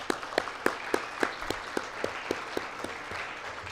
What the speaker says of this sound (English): let's give a round of applause to Affilius